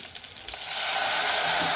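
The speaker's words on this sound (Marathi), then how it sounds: "आणि आता मी याच्यामध्ये टाकतो पाणी." Water pours into a pressure cooker pot of stuffed brinjal curry, starting after a brief pause and swelling into a steady, close rushing splash.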